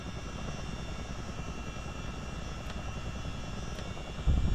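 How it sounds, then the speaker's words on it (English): A steady, continuous engine drone of a CH-47D Chinook helicopter in a flight simulator game, taxiing forward, with a low rotor throb, unchanging in level throughout and with no voices. "We'll just start to taxi the helicopter forwards."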